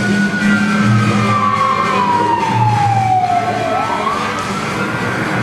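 Fire engine siren wails loudly and close, its pitch sliding steadily downward over several seconds before swinging back up, with engine rumble underneath.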